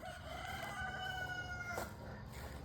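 Rooster crowing faintly in the morning, one drawn-out, wavering crow at a distance over a low, steady background hum.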